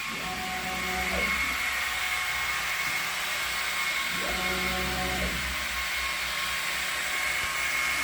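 The head of a laser plywood-cutting machine with autofocus moves on a trace run. Two short motor whines rise and fall over a constant fan-like hum and a thin high tone.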